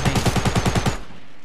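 Rapid automatic gunfire in Fortnite, about nine evenly spaced shots in one quick, loud, close burst lasting under a second, then cutting off into a fading tail.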